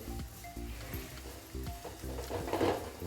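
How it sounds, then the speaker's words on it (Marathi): A sweet mixture sautéed in ghee over a low flame, giving a steady soft sizzle with a few scraping stirs, close and moderately loud, with no talking. "आता अजून एक पाच मिनटं आपल्याला कमी गॅसवर आपल्याला हे चांगलं परतच राहायचं आहे"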